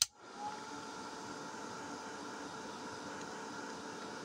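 A hair dryer blows a steady, loud whoosh of air to dry a decoupaged plastic button, starting abruptly and holding constant for several seconds with no talking.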